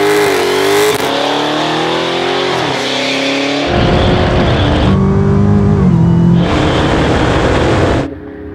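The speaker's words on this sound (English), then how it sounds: "He's just rewatching the burnout." A Hoonicorn Mustang does a loud burnout, its engine roaring and revving up and down through several pitch sweeps with tyre squeal, close by and continuous before it drops off at the end.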